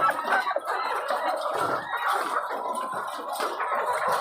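Several egg-laying RTL hens cluck continuously and fairly close, a busy overlapping chatter with a few harsher calls mixed in.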